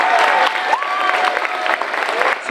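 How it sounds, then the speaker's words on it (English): Loud, close applause from a school audience at a Veteran's Day celebration, dense clapping running throughout with a few cheers and voices mixed in. "Let's give them a round of applause,"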